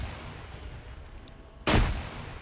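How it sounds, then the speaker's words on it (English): One grenade in a multiplayer shooter match bursts with a single sudden, loud, close blast that decays over a fraction of a second after a quieter stretch of ambient game noise. "More grenades going on to Lolo."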